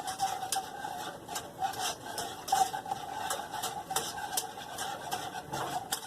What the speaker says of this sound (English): turn the heat on, and we're going to make sure we stir this.